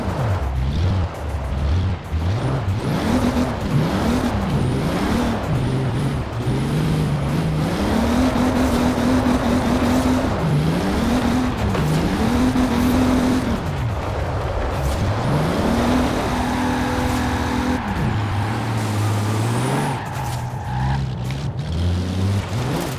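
A 1992 Toyota Supra 2.0 GT twin turbo in Forza Horizon 4 revs up and down through repeated rising and falling engine sweeps with gear shifts and some tire skid, loud and continuous, no talk.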